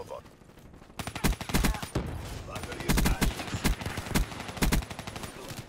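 Rapid bursts of gunfire from the Black Ops 3 video game, repeated sharp volleys and automatic shots rattling loudly over a busy game soundscape with no speech.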